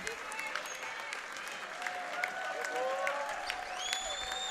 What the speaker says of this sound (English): Both of those guys also get a nice applause from the crowd